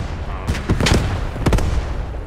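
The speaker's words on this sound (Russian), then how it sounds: "да, взрываю сейчас." Several sharp blasts and bursts from a Post Scriptum match on the Carentan map as a rally point is blown up, loud broadband booms clustered near the middle and again later over a noisy battlefield background.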